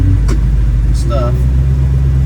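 A 1966 Ford Mustang Coupe, fitted with fuel injection, cruises at highway speed with a steady low engine and road drone throughout, plus brief higher chirps and light talk over it.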